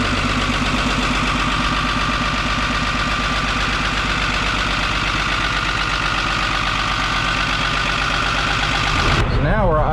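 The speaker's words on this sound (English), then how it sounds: "Now we're idling at about 750." A 1975 squarebody truck's diesel engine idles loudly and steadily at about 750 rpm with a rough, rhythmic knocking throb, close by, before a brief shift in sound near the end.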